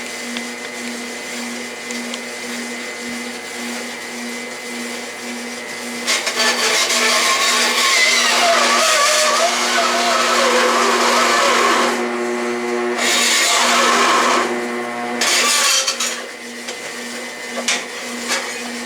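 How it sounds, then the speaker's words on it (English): A Delta saw converted for metal cutting and driven by a DC motor whines steadily, then bites into 1/8 inch steel with a louder grinding rasp as the motor bogs down and stalls, with uneven bursts toward the end. "Now watch the pulleys as I saw 1/8 inch steel and stall it out."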